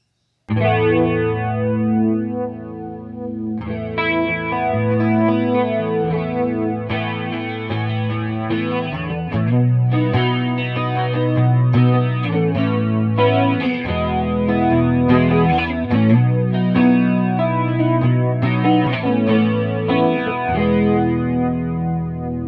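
Electric guitar played through a PastFx 80/A flanger pedal, chords and notes ringing with a shimmering, slightly distorted modulated tone, loud and steady without talking.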